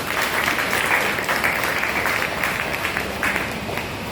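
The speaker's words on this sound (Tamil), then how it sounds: "அனைத்து படை வீரர்களையும் அன்புடன் கரவொலி எழுப்பி பாராட்டுகிறோம்" Steady applause from a gathered crowd honoring presidium members, dense and continuous clapping that stays loud and even for the full stretch, with no voices over it.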